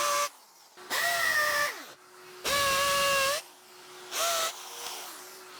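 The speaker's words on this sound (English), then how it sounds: "and then finish drilling the hole" A power drill runs in three bursts, whining with a steady pitch as it bores, each burst slowing at the end, with a quieter hum between.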